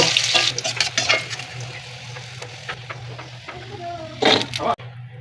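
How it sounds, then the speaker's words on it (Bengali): Shrimp fritters fry in oil in a wok, giving a close, bubbling sizzle with spatula scrapes and clatter as they are turned, and a low steady hum underneath. "উল্টে পাল্টে লাল লাল করে বড়াগুলো ভেজে তুলে নেব"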